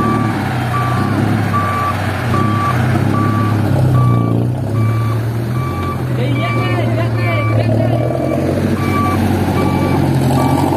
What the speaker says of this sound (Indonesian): Truk jomplang warna biru itu teman-teman lagi diusahakan untuk keluar dari jomplang.